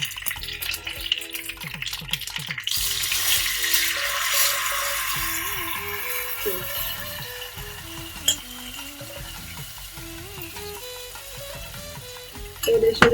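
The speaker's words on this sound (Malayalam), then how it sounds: "ഇതിലേക്ക് നമ്മൾ പുളിവെള്ളം ഒഴിച്ചെടുക്കാം." Tamarind water poured into a hot pan with curry leaves for inji curry, a bright rushing sizzle that swells then settles into a softer steady simmer, with a tonal melody playing underneath.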